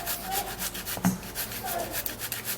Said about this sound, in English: I'm gonna be using a half cut of my tomato, and then I'm going to be using a grater to grate this.